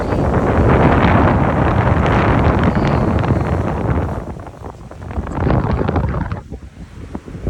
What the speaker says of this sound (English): it's windy right outside